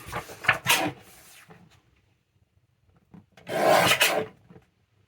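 Paper is cut down for a junk journal front flap in two distinct bursts of close, crisp cutting strokes separated by a quiet gap.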